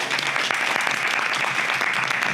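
A crowd at a panel talk on Black creatives applauds its panelists, producing a thick, continuous burst of clapping that stays loud and even throughout.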